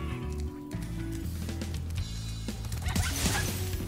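Dog barking in the video game Spyro Reignited Trilogy, a few short yips set over steady game music and ambient effects, with a crash partway through.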